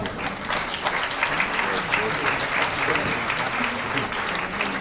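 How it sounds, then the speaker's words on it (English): Audience applause at a live Tamil Nadu Governor's discussion event with women leaders, broad steady clapping from a standing crowd filling the whole stretch at an even level. "I think they deserve a big applause"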